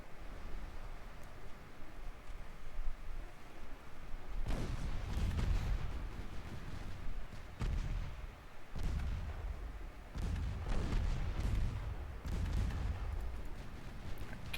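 Secondary ship guns fire at an enemy ship in a naval video game, producing a series of loud, sharp booming shots at irregular intervals over a constant background rumble.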